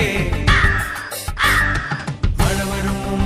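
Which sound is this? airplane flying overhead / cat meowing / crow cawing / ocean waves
crow cawing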